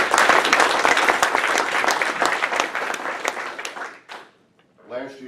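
A Rotary club meeting audience applauds, a dense, loud burst of clapping that tapers off after about four seconds before a voice starts speaking.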